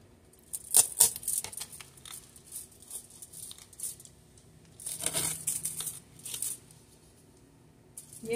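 A knife cutting up a freshly baked pizza, with bursts of crisp crust crunching and paper or cardboard crinkling, uneven and close, with quiet pauses between cuts.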